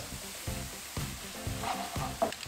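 Onion and garlic frying in a little oil, with a continuous close sizzle broken by rhythmic scrapes of a spoon stirring the pan, no voices.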